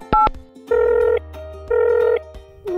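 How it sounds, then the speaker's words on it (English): Telephone keypad tones beeping as a number is dialed on a toy-like phone, a few short tone bursts then two longer held tones separated by pauses, close and clear with no talking. "We're trying to find Goldilocks. Yeah, we're ringing everyone in town"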